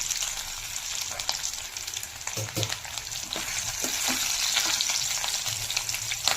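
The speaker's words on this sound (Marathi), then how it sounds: "उकडून घेतलेले आलू आपण गरम तेलामध्ये फ्राय करून घेणार आहोत" Boiled potatoes fry in hot oil with a steady hiss and crackle, broken by occasional light scrapes of a spoon against the pan.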